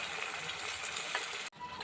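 A tomato mixture for takkali thokku is stirred as it fries in a pan over a low flame, giving a steady, soft sizzle with scraping that cuts off briefly near the end.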